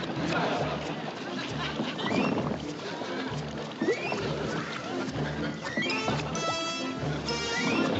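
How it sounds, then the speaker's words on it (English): A horse whinnies and clops amid a busy, noisy hand-operated horse wash scene, with people talking and splashing water throughout. "And that is one well-trained horse."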